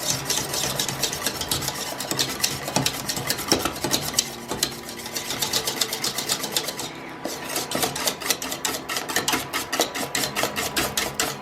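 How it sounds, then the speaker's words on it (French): Cream whisked vigorously in a bowl for a Tropézienne, producing a fast, steady rhythmic scraping and clicking of the whisk against the bowl that continues without pause. "Donc là, vous le mélangez vivement."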